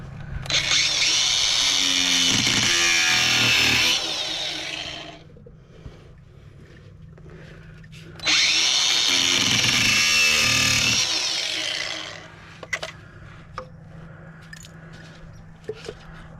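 Loud power tool cutting through a clamp on the steering rack of a 1990 Volvo 740, two sustained harsh whining bursts of about four seconds each with quieter pauses and light clanks between.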